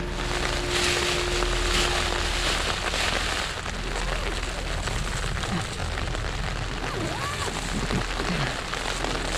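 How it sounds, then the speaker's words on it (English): Rain patters steadily on a tent while camping in Ireland, a dense, close, continuous hiss of drops with a low hum underneath. "Well, here's the rain again."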